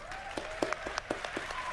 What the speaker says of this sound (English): I hear you clapping out there.